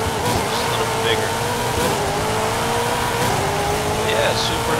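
A Ford Mustang Boss 302 with a carbureted drag tune revs in Forza Horizon 5, its engine note climbing steadily and loudly with a faint tire squeal, while someone talks over it.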